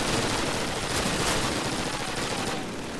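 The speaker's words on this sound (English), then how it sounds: "Let's shoot that guy." Rapid gunfire from the Call of Duty video game forms a dense, loud, continuous burst of shots and crackling blasts that runs the whole time, with no talk over it.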